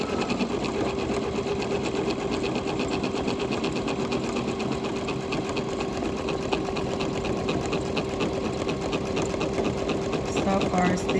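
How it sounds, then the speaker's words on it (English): Embroidery sewing machine stitching out a scalloped monogram appliqué on a shirt, a steady, fast continuous whirring and clatter that runs unbroken throughout at close range. "almost done stitching."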